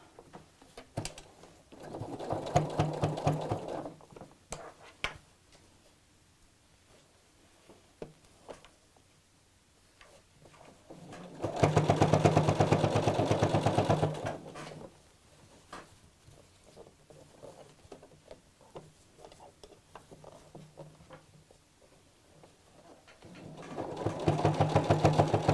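A sewing machine stitches through a fabric rucksack in three steady whirring bursts separated by quiet pauses, the motor humming close and moderately loud.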